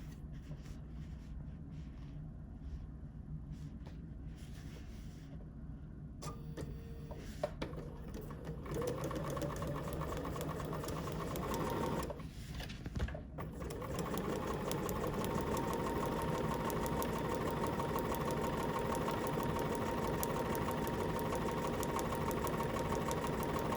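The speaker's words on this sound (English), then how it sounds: "but still stitching in the same direction" A sewing machine stitches a fabric notepad holder with a steady, close mechanical whir that runs continuously, briefly dips around the middle, then resumes slightly louder to the end.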